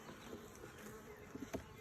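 Carniolan honey bees buzzing at an opened hive during an inspection, a faint, steady hum with a few brief, sharper buzzes close by near the end.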